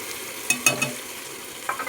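Green chili and herb paste is added to a frying pan and stirred, giving a few short, faint sizzling and scraping bursts close by, mostly quiet between them.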